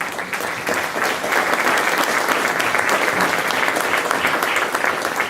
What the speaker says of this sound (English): How about a round of applause for all of our great speakers?